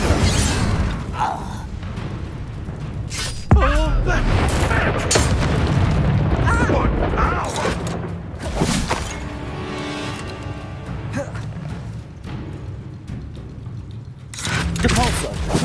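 Incendio fire spell cast in the Hogwarts Legacy game, a loud booming blast and crackling burst amid busy combat effects, with someone shouting excitedly over the din and repeated impacts later.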